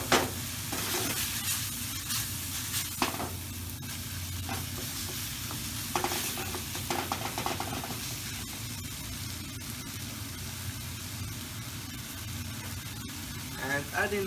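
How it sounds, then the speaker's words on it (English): Tomato paste is stirred into browned beef in a hot pan, a steady loud sizzle and fry with scraping stirs and clinks of the utensil throughout. "add in 2 tablespoons of tomato paste. And you just want to stir that through"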